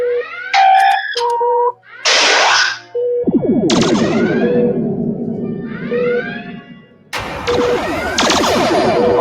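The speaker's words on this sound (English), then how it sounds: "We have 2 photon torpedoes ready to fire, sir." Star Trek fan-film photon torpedoes firing: loud synthetic sci-fi tones, swooping whooshes and a sustained rumbling blast, ending in a bright burst.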